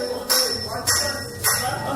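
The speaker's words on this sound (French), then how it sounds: "C'est le son de cloche qui a donné le top de la composition de l'examen du certificat" A school bell rings in three evenly spaced strokes, each a bright metallic clang that lingers and rings out between hits, signalling the start of an exam.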